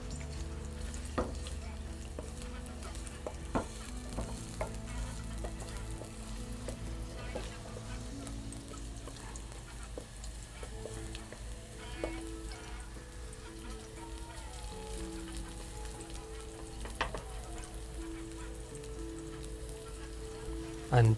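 Garlic frying in hot oil in a pan while being stirred, a soft steady sizzle with scattered scraping and tapping of the utensil against the pan, fairly quiet and close, with some faint talking.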